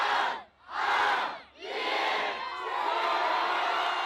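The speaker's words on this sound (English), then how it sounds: "Local media estimated 1 million people came to cheer in" A vast New Year crowd on the Champs-Élysées in Paris roars and cheers in loud surging waves. Two swells come with a brief dip between them, then a sustained roar.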